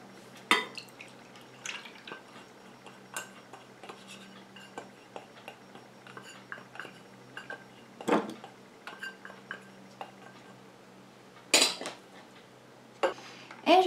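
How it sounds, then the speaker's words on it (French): Oil phase being stirred into an emulsion for a rinse-off cream in a small container, heard as sparse, quiet clinks and taps of a utensil against the vessel at irregular intervals, with a few louder knocks near the end. "Et je continue à mélanger comme ça jusqu'à ce que mon émulsion épaississe et refroidisse."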